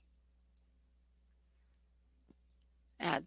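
Computer mouse clicks, a few light, close ticks spaced apart over quiet room tone, then a brief burst of louder noise at the end.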